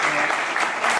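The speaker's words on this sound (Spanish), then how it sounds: "Un aplauso para Diego." An audience at a conference session on child protection in sports settings applauds Diego. A dense, steady burst of clapping fills the short moment.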